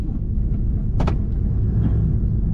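A 4x4 truck engine idles with a deep, loud rumble before a launch, with a brief mechanical clunk partway through.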